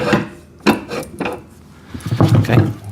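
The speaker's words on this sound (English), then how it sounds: "So I'll just slide that axle through." A metal axle is slid through the frame of an Albott 75 ft auto-feed electric drain cleaner during assembly, giving a few close scraping, clunking knocks separated by short pauses, then a busier rattling stretch near the end.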